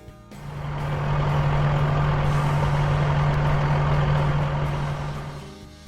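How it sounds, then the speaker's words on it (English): A bulldozer's heavy diesel engine gives a steady, loud, droning rumble with a constant low hum. It swells in quickly, holds for about five seconds with no voices, then eases off. "Where is the bulldozer? Keep it up. Bulldozer."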